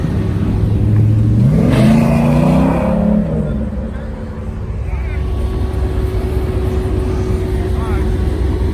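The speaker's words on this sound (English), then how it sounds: "They're doing burnouts and shit." A car doing burnouts at a gathering roars loudly, its engine revving up and sweeping in pitch before settling into a lower steady drone, while people talk nearby.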